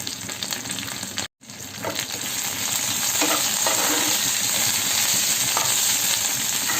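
Green chillies fry in a pan with a steady, loud sizzle and occasional stirring scrapes, broken by a very brief silence near the start, then continuing evenly with no talking.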